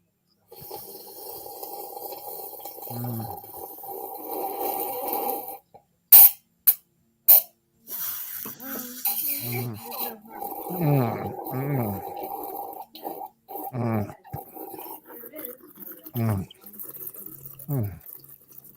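Someone drinks wine from a goblet with loud, wet slurping bursts meant to aerate it, coming in sharp close gulps between stretches of conversation and laughter.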